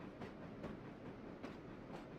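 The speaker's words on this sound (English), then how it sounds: "We have a long coal train behind us," A long coal train rolls steadily along the rails, its wheels giving a continuous rumble with regular clickety-clack beats at the rail joints, heard close and without talk.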